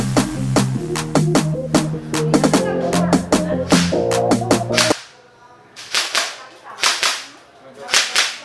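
An M4 ALC airgun with a retractable stock fires in semi and full auto, sharp close cracking shots in quick rapid strings over background music, then spaced single pops.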